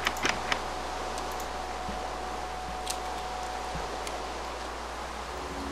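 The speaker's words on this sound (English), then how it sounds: "I think we all deserve a rest from this pouring rain." Heavy pouring rain in the video game Minecraft: a dense, even hiss of downpour holds steady throughout, with a few faint ticks and taps scattered in.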